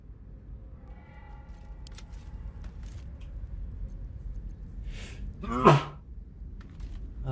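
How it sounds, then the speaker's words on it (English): One sharp human sneeze bursts out near the end, loud and close, standing out over quiet background hiss and faint game sounds. "Had a sneeze."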